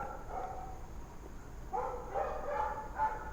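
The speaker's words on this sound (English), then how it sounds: "That's probably why the dogs are barking." Dogs bark on a patio, a few distant, muffled woofs and yips in short bursts over a low background hum.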